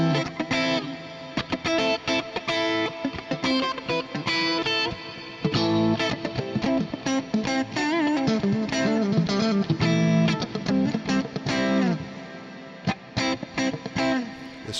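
An Ibanez RG 470 electric guitar played through a slightly distorted amp: loud, sustained chords and riffs with short breaks between phrases, played alone without talk.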